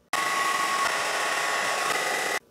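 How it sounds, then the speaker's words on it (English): A hair dryer blows steadily on packing tape stuck to a Sega Genesis box, a loud continuous whir that starts abruptly, holds even for about two seconds, then cuts off. "it might actually be best to get a hairdryer involved"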